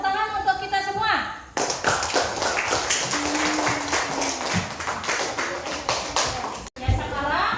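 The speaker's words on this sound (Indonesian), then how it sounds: "Ya, tepuk tangan untuk kita semua." Applause from a class at a teacher-training lesson, a dense burst of clapping that starts after speech, carries on steadily for several seconds, then fades back into talking.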